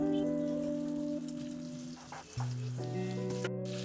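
Butter and desi ghee melting in a pan, a soft sizzle and crackle under a steady tonal background hum, with a brief dip in the middle and no speech.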